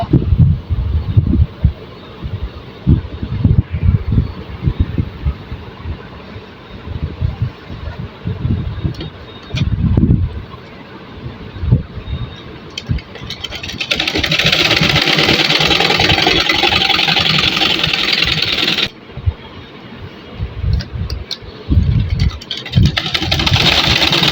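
A sewing machine stitches a child's fatua with an irregular mechanical thumping that swells into a loud, steady whirring run in the middle before returning to choppier bursts.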